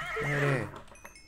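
A horse in the video game Minecraft lets out a single loud, close whinny that rises and falls over about half a second, then fades into quieter background sounds.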